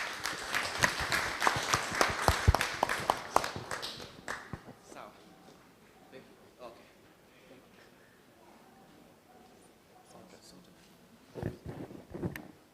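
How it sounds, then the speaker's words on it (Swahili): Audience clapping hands at a church self-help group's annual general meeting in Kasarani: dense, loud applause for the first few seconds, thinning into scattered claps and room murmur, then a short renewed burst near the end. "Pigeni makofi."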